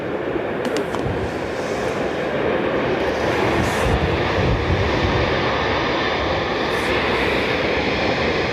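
A Royal Australian Air Force Boeing 737 Max at Dublin Airport produces a steady, loud jet engine roar with broadband rumble, heard from across the runway and sustained throughout with no voices.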